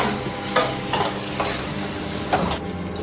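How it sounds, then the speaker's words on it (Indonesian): Medan anchovies fry in a pan with a steady, dense sizzle and crackle, close and loud, while a utensil stirs them with occasional scraping knocks; no one speaks. "sekarang kita goreng dulu teri medanya"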